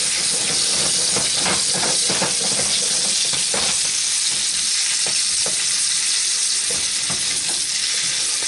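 Coated chicken breast frying in a pan, a loud, steady sizzle and hiss of hot oil with small pops and crackles throughout, close up, with no talking.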